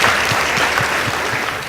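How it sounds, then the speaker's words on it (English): Loud, steady applause from the audience at a school debate competition, dense clapping sustained throughout with a few stronger individual claps standing out and no speech over it. "Please give them a round of applause."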